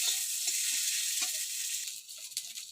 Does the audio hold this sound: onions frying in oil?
yes